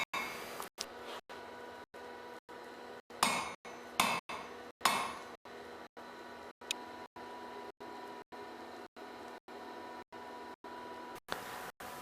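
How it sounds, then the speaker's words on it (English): A blacksmith hammers 12mm round bar on an anvil while forming the scarf of hollow bit tongs, giving a regular series of sharp ringing strikes at close range, a few heavier blows standing out among them. "12mm round, I find it easiest to upset it straight down on the anvil and at an angle so as to form the toe of the scarf."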